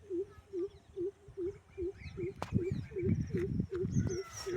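A koel calls in a village, repeating an evenly paced run of about a dozen short hooting notes, clear and fairly near, with rustling and handling noise building underneath.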